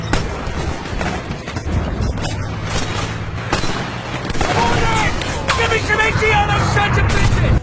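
Japanese artillery pounds away in a World War II film battle scene: dense, continuous booms and rattling gunfire, loud and chaotic, with a narrating voice layered on top.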